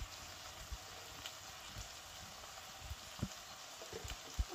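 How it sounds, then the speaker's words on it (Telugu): Vegetables frying with ginger garlic paste in a pan, a quiet steady sizzle with occasional soft pops and crackles throughout, no talking. "సో మనకి ఇది పచ్చివాసన పోయే వరకు వేయించుకోవాలి."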